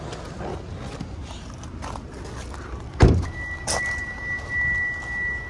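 A 2012 Kia Sorento sounds a steady key-outside warning tone after a car door thuds shut, the beep holding on at moderate volume while the engine idles low underneath.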